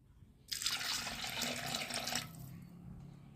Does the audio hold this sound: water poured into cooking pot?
yes